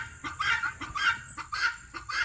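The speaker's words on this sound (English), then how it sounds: "These are some big old chickens." Large, heavy Cochin chickens clucking close by in a rhythmic series of short, nasal calls, several clucks over a couple of seconds with no talk.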